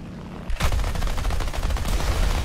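Aircraft guns on an A7M2 Reppu fighter in War Thunder firing a sustained rapid burst, a loud dense rattle of shots that starts abruptly and continues to the end.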